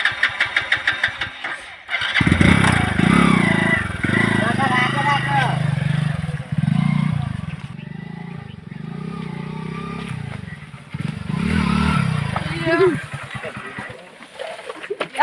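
An old motorcycle engine starts and revs in surges, running loud and steady through most of the stretch while people talk over it.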